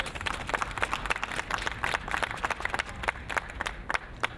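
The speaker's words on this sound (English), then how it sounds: "Please, can you give us a round of applause for that?" A crowd at a United African Coalition rally gives a round of applause: moderate, somewhat distant clapping from many hands, with scattered sharper claps over a steady patter.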